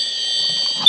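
A single loud, steady electronic alarm tone sounds during an alarm test, holding flat for nearly a second before cutting off with a brief click.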